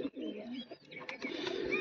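A golden female tournament pigeon gives soft low coos up close amid shuffling and handling noise, in a short busy stretch without clear speech.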